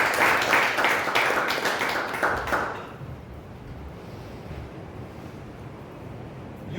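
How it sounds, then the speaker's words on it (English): A room of people at a Toastmasters meeting applauds a guest speaker, a burst of brisk clapping that fades after a few seconds into quiet background noise. "So give a round of applause for guest Parth."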